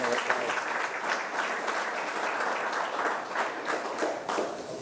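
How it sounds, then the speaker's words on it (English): A museum open-house audience applauds steadily, a dense, even wash of many hands clapping for several seconds at moderate distance, with no speech over it. "So again, a round of applause for Gary and the Minaret"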